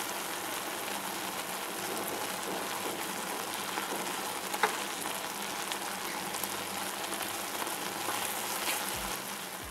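Apple and lemon juice filling cooking in a pan, a faint, steady bubbling sizzle that runs evenly throughout with no voices over it.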